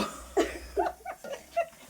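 A series of short, harsh coughing bursts, about five in quick succession, close by, with no talking, from chili powder fumes while cooking.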